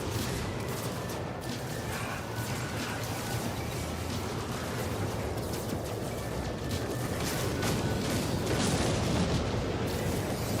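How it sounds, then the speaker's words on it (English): Rapid, continuous weapon fire from a photon cannon in No Man's Sky, a dense, steady barrage of loud booming blasts holding at an even level with no pauses. "this is what I was saying about the photon cannon"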